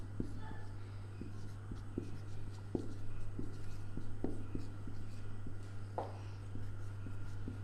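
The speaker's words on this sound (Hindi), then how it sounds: "इसका एग्जाम्पल भी मैं एक लिख दे रही हूं।" Pen or marker scratching out a maths example by hand during a Class 10 arithmetic progression lesson, soft intermittent strokes and taps over a steady low hum with faint room noise.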